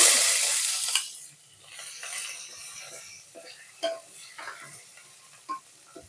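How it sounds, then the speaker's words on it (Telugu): Onions and curry leaves sizzling in hot oil for a tempering, a bright hiss that starts strong and settles into a quieter crackle, broken by a few scrapes and taps of a spoon against the pan. "నెక్స్ట్ ఆనియన్స్ కరివేపాకు వేసుకోవాలి"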